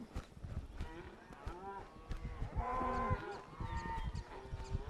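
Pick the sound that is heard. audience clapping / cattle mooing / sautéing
cattle mooing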